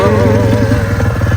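A motorcycle engine runs loud and close, a steady throbbing idle with a slight wavering pitch that holds for the whole short moment.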